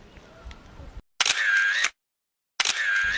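A camera shutter fires twice in a photo for a school reader: two close, sharp mechanical shutter bursts about a second apart, following a brief stretch of quiet background noise.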